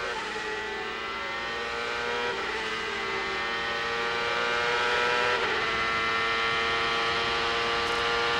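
A 1998 CART Champ Car race car engine at the Brazil round, a high, steady harmonic whine that dips briefly at each easy gear shift and then climbs again, heard continuously from onboard without any voices.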